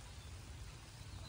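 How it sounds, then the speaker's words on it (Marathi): Morning rain falls steadily as a soft, even hiss with a low rumble underneath, faint and continuous, with no one speaking. "8 वाजले तर पाऊस काय बंद होईना"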